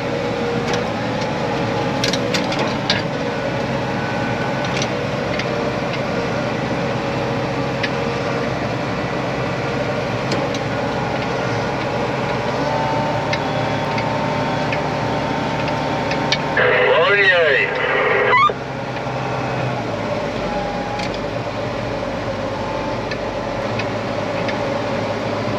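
Tractor with a worn-out, broken seat drives along in a steady, loud engine drone, with a brief burst of clattering louder noise partway through before the engine hum carries on.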